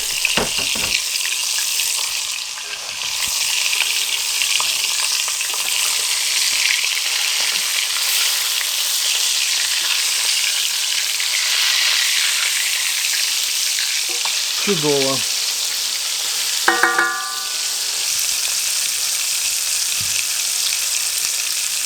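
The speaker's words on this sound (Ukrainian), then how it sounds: "і чудово смажиться" Crucian carp crackles and sizzles steadily in hot oil in a pan inside a traditional Ukrainian oven, with a few clinks of a utensil and a brief spoken word partway through.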